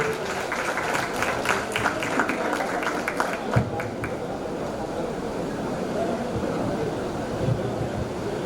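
An audience clapping for dignitaries at a web series launch event, a dense burst of applause over the first few seconds that gives way to a low crowd murmur and talking.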